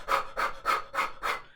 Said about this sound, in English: brief exhales, quick exhales.